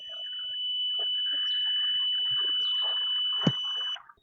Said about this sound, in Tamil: இப்போ இந்த ரெண்டுத்தையும் டச் பண்ணோம் அப்படின்னா பீப் சவுண்ட் ஒன்று கேட்கும்.